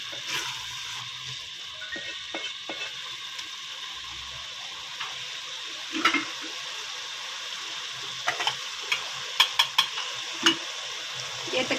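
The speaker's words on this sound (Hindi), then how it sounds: "अब हम आलू डाल देते हैं। इनको भी तकरीबन हमने कोई 5-6 मिनट भूनना है" Potatoes frying with minced meat for aloo keema in a pot, a steady soft sizzle broken by scattered clicks and scrapes of stirring that grow busier toward the end.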